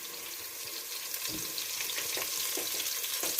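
Oil sizzles in a pan while red sauce pasta is made, a steady close hiss with a few soft knocks and stirring sounds, and no voices.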